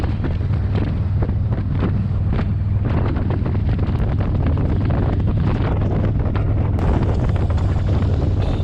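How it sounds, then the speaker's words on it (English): Harley-Davidson Street Glide motorcycle cruising along Route 66 in open Arizona country, its low engine drone steady under loud, continuous wind buffeting against the microphone. "You can hear the sound of the bike and the wind blowing."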